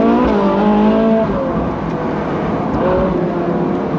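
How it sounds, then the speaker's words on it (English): Supercars drive through a Cotswolds village, loud engines revving and roaring close by with shifting pitch as they accelerate, a continuous dense engine blare with no talking. "Just driving down into the main village now."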